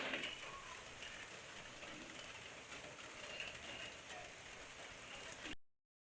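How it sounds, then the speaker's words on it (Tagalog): Steady rain patters and hisses across a surface, a continuous wash of drops with no pauses, fairly close and even in loudness. "Kay ulan."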